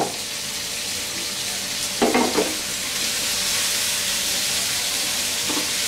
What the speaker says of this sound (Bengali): এখন এর মধ্যে আমি কেটে রাখা ঝিঙ্গাগুলা দিব কাঁচামরিচ দিয়ে দিব